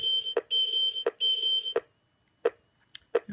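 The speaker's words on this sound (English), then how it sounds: "we can hear that beeping sound" Electronic beeps from a Master Replicas Aliens motion tracker prop repeat in short bursts, then give way to a few isolated clicks spaced out near the end.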